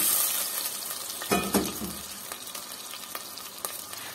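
Sizzling and frying in a pan as water goes into chicken tikka pulao with cloves, cinnamon and black cardamom, a steady hiss with a louder splash-like burst near the start and light stirring clinks.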